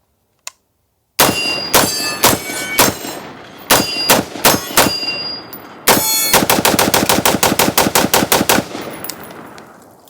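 A suppressed .45-70 lever-action rifle fires at metal targets. After a single early shot there is an irregular string of sharp reports, each followed by a ringing clang of steel. The volley closes with a fast, rhythmic burst of shots and metallic pings.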